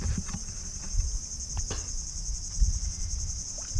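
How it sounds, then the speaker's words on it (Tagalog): Insects chirp steadily as a continuous high-pitched trill at a beach in Quezon Province, with a low outdoor rumble and a few faint knocks beneath. "Naririnig yun mga kulisap"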